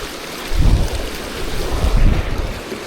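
Strong wind gusts blow outdoors at a rainbow trout fishing spot beside a stream, with low rumbling buffeting on the microphone that swells and fades in waves, loud and close, and no one talking.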